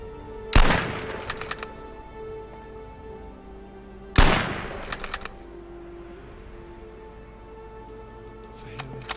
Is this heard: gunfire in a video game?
yes